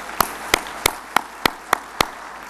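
Audience at the opening of an African emerging-markets forum claps in unison: seven sharp, evenly spaced claps ring out in a steady rhythm over a quiet room.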